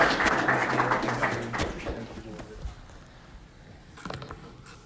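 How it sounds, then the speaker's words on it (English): Audience applause welcoming the keynote speaker at an audio forensics conference, a dense burst of clapping that gradually thins and fades over a few seconds before a short final flurry. "Please welcome, big round of applause"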